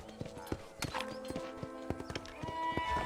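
Horse hooves clip-clopping at a steady trot on a ranch in Red Dead Redemption, crisp regular hoofbeats near and clear, with a horse snort and light ambient sound.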